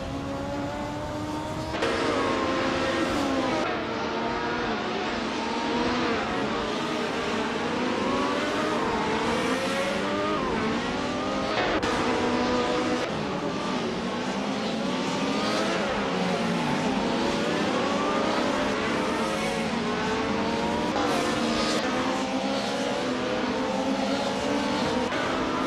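Race cars including a 1996 Alfa Romeo 155 V6 and a 1996 Opel Calibra DTM, engines droning and revving continuously with rising and falling pitch as gears shift, a dense, loud field of racing engines.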